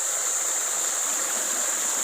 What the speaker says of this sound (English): If you hear water rushing behind me